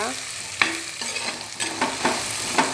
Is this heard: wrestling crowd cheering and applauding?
no